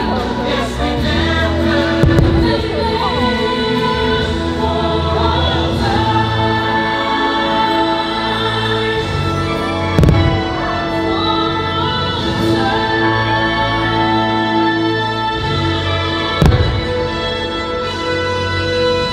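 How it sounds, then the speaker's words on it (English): Holiday fireworks over Main Street at Disneyland, a few separate booms spaced far apart that sit under loud, continuous orchestral show music. "So we're on Main Street waiting for the fireworks."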